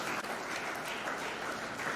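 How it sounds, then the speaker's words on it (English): Sustained applause from a crowd at a youth entrepreneurship event welcoming sponsors, an even, continuous patter of many hands heard from a moderate distance. "Please welcome them with a big round of applause."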